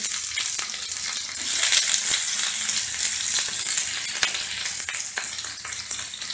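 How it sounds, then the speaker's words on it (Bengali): Chopped onions fry in hot oil, a bright continuous sizzle that swells after the first second and stays crackling with occasional stirring clicks, close and moderately loud. "তেল গরম হয়ে গেছে, এবার আমি এটাতে পেঁয়াজ কুচিগুলো দিয়ে দেব।"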